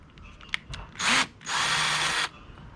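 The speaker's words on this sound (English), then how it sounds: "the torque from the drill bit turning this way is pushing the bolt head in" A power drill bores out a broken, sheared bolt on a kayak rudder in two bursts, a short whir followed by a longer steady grinding run, close and loud, with faint clicks before.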